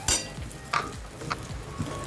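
Whole spices for a sambar dry-roasting in a pan give off scattered sharp crackles and pops with light scraping from stirring, quiet and close, with no talking.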